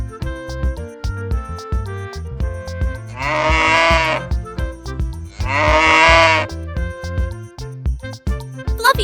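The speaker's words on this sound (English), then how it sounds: "Meet the gentle giants of the farm cows, who love to munch on grass all day and say moo in their own musical way." Cows on a farm give two long, drawn-out moos, each lasting about a second, over a steady, light musical backing.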